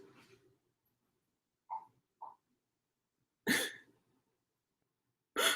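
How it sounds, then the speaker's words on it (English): A dog indoors gives short, sharp barks and yelps, two soft ones followed by two loud, close bursts separated by silence. "My dog is like acting a fool tonight."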